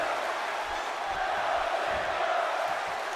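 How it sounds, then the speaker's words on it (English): An arena crowd in WWE 2K17 chants for Dolph Ziggler during a wrestling match, a broad, steady roar of many voices filling the space without a break. "And the crowd with a Let's Go Ziggler chant."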